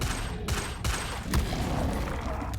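Rapid bursts of spell-casting effects fired at goblins in a fantasy video game, a dense crackling barrage with sharp blasts at intervals, loud and continuous with no talk.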